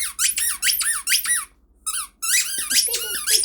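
A dog rapidly squeaking a squeaky toy, with bursts of repeated high, close squeaks, a short pause, then more quick squeaking.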